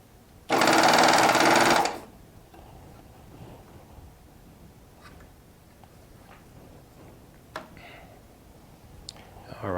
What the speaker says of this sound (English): We're going to run that lower looper through there again.